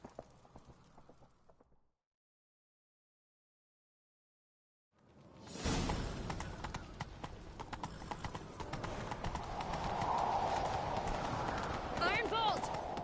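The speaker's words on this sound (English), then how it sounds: "Grab a horse, we'll chase him down." Horse hooves gallop at a steady run in The Witcher 3, loud and close after a brief silence, with a horse whinnying near the end.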